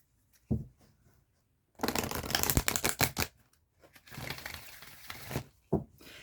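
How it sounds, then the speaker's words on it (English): Tarot cards are shuffled in two long riffling bursts, close and crisp, between quieter taps and slides as a card is drawn from the deck. "So we'll pull your final card here, Taurus."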